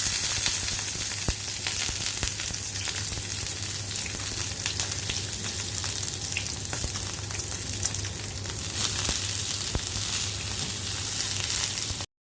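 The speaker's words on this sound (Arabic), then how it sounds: "بحب احمره في معلقة زبدة، بسخنها الاول تسيح وبعدين ابدأ انزل فيها السجق" Sausages frying in a spoonful of melted butter in a pan give off a loud, steady sizzle with scattered sharp pops and crackles, lasting throughout with no talking.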